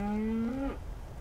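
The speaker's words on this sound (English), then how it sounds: "Hello, cows. Oh, they're friendly." A single cow on a farm gives a loud, close moo that slides gently downward and cuts off, with faint background noise behind it.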